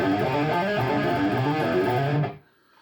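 A distorted electric guitar riff plays loud and dense, descending chromatically in half steps, then cuts off abruptly near the end with a brief fading tail.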